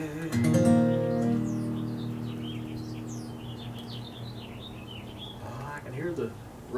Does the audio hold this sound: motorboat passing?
no